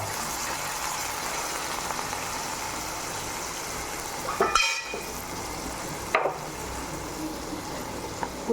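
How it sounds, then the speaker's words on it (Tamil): Mango pieces sauté in a pan with a steady, close sizzle, broken by a couple of louder stirring scrapes; no talk. "இப்போ மாங்காய் நல்லா வதங்கிடுச்சு."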